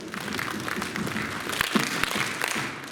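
Steady crowd applause fills a Tongan Methodist youth church gathering in Aotearoa, dense and sustained with a few louder individual claps and faint voices mixed in.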